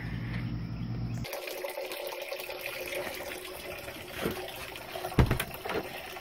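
Liquid poured from a container while rendering beeswax, a steady watery gush that stops abruptly, leaving quieter trickles and a couple of small knocks near the end.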